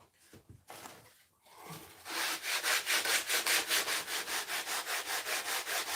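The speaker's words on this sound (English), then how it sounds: "with the sandpaper, you can really, really, really take it out and really, really shape it" Sandpaper is rubbed back and forth over a model railway embankment, a few scattered scrapes followed by a rapid, even run of close rasping strokes.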